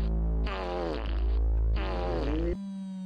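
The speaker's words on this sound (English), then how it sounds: "The fart sounds." Two long, buzzy fart sound effects from a short social media reel, each lasting about a second, loud and close, followed by a brief tonal tail.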